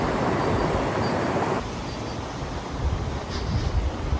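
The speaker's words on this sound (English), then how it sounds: "Running water coming right through" Running water flows through a town, a steady broadband rush heard up close and alone, easing slightly in level partway through.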